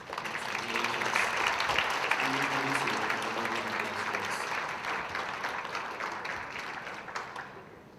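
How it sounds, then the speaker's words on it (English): At a Mr. Vineland 2022 pageant, a school event, the audience applauds the eight contestants with sustained clapping. Cheers and voices mix in, and the applause fades toward the end. "give a round of applause to our 8 contestants"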